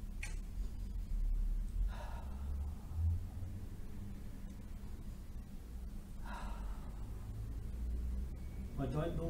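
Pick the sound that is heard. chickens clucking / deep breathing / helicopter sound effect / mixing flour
deep breathing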